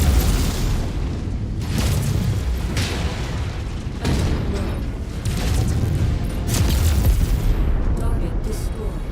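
Deep booming blasts as a target is destroyed in MechWarrior 5, several heavy thuds and rumbling bursts spaced across the clip, loud and close amid ongoing battle noise.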